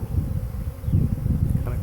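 Honey bee swarm arriving at a swarm trap, a dense close buzzing drone of many bees that pulses and swells continuously.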